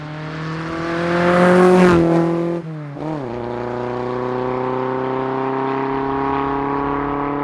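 A Skoda S100 with a 16V twin-cam engine revs up hard to a loud peak, drops off sharply, then settles into a steady raised idle, close and alone with no talking.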